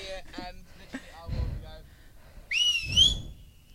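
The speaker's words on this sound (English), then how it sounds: "I'd suggest holding your ears because there's a very loud whistle about to happen" A very loud, sustained whistle blown outdoors among hills, a bright gliding tone lasting about a second after some speech, with background noise around it.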